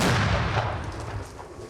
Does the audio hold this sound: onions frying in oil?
no